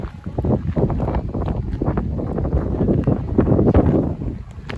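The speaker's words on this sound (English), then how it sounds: "We're also on top of a mountain, so once again the wind will persist." Wind buffets a microphone on a mountaintop near Prague Castle, a steady loud rumbling gusting noise that carries on throughout without any voices.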